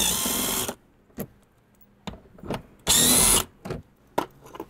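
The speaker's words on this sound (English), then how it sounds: "we have 5 8-millimeter screws that we need to remove" Power tool driving out five 8-millimeter screws in the fender well of a 2023 Jeep Grand Cherokee 4xe Trailhawk, giving two long loud whirring bursts separated by short clicks and brief spins, with no talk.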